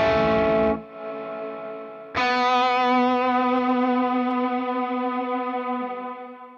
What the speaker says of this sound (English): Let me turn that reverb back on and see what that sounds like now.